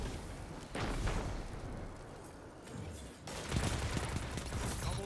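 Rapid barrage of thrown blades in the video game Destiny, bursts of loud, dense impacts and explosive crackle filling the scene, with a short lull before a second heavy volley.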